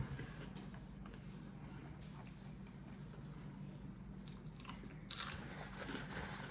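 Chili cheese Fritos topped with chili are crunched between the teeth in soft, close bites, a few crisp snaps over faint low room noise.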